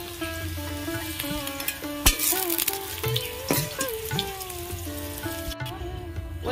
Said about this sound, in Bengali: পেঁয়াজগুলো ভেজে নেব। পেঁয়াজ আমি ফুল ভাজবো না, অর্ধেক ভাজবো।